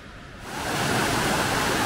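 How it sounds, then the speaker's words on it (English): A river in a mushroom-hunting forest rushes steadily, a broad hiss of flowing water that swells up within the first half second and then holds loud and constant, with no voices. "We have this beautiful river here."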